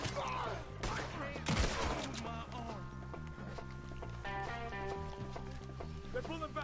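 Bursts of gunfire crack through a shootout in the video game Red Dead Redemption 2, mixed with hoofbeats and layered under frequent talking and game dialogue.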